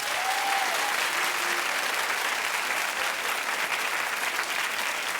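A television talk show studio audience claps continuously and loudly, a thick, even roar of hands that holds steady from start to finish.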